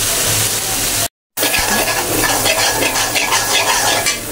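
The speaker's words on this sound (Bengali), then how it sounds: "মশলাটা আমার কষুক একটু" Spice mixture frying in a pan for broiler chicken bhuna, a steady loud close sizzle with stirring and scraping, broken by one short silent gap.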